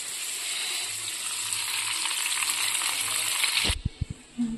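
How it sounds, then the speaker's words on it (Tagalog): Chicken wings frying in hot oil, a steady close sizzle that continues for several seconds and then cuts off, followed by a few clinking knocks. "Ayan natin fried chicken na wings"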